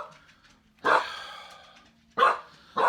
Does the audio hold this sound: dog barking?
yes